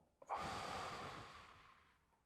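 A single deep inhalation during a guided breathing exercise, heard close and alone as a long airy draw of breath that swells quickly and then slowly fades away.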